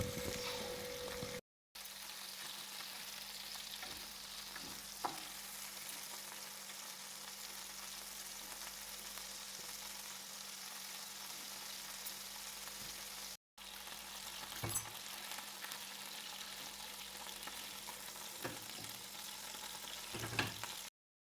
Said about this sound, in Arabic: راح نوضع الكمية المتبقية وراح نقليها بنفس الطريقة اللي قليت